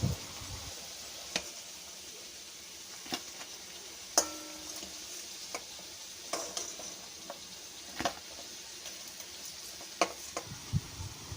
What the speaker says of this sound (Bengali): এবার চপগুলো ভাজা হয়ে এসছে।